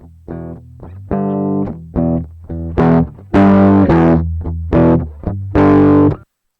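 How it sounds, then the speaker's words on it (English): Guitar pushed through heavy saturator drive in Ableton plays a sequence of distinct, gritty notes and chords, growing harsher and fuller toward the end before stopping abruptly. "when we're gonna put the drive up, it's gonna make our sounds pretty nice and distorted"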